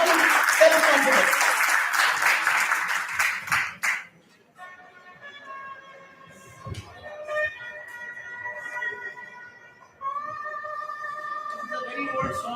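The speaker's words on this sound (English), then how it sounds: "So, clap for yourself." An audience at a dental sciences conference claps loudly in a dense burst for about four seconds. The applause then dies away and gives way to quieter melodic tones.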